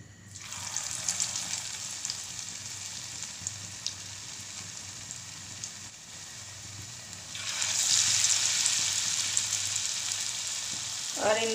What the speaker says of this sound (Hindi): ये देखें ऑयल जो है वो अच्छे से गर्म हो गया। तो अब हम इसमें कटलेट्स डालते जाते हैं।